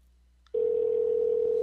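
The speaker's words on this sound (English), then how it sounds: "I hear it ringing." After a faint click, a continuous steady telephone tone starts and holds unbroken at moderate volume.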